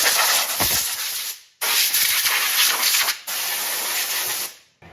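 Rust and brake dust are scrubbed off the rear wheel hub of a 2008-2013 Toyota Highlander in three long, loud, harsh hissing strokes, each roughly a second and a half, separated by brief pauses.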